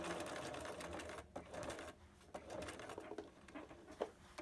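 A sewing machine stitches a child-sized fabric mask, running steadily and fairly close, with brief pauses and small shifts in speed.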